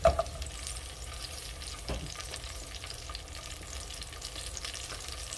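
Tomatillos and serrano peppers frying in oil in a pan: a faint, steady sizzle with occasional soft stirring knocks and a light clatter at the start, close up and with no talking.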